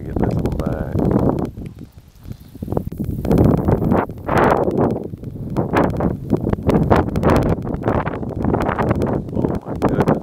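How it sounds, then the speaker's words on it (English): Strong wind buffeting the microphone in loud, roaring gusts that rise and fall throughout. "It's really windy now."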